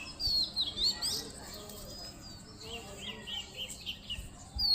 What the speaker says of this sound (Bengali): আম্মু দেখো কতগুলা কবুতর